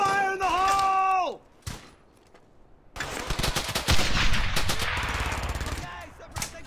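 Loud bursts of automatic gunfire and rapid shots in the World War II shooter Brothers in Arms: Hell's Highway, coming after a brief shouted voice and a quiet pause, then sustained dense firing with echoing impacts.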